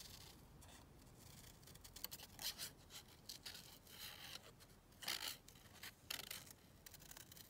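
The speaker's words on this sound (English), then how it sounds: "So let's just cut this out and see." Scissors snip through vintage pattern paper in a quiet run of soft crisp cuts and rustles, close but faint, with one short spoken word.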